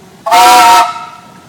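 A double simple steam traction engine at a steam show gives one short, loud whistle blast of about half a second, a steady tone that cuts off sharply and leaves a faint ringing tail.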